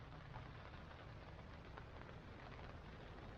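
Rain falls outside a camp at Mason Bay, a soft, continuous, faint hiss of drops with no talking.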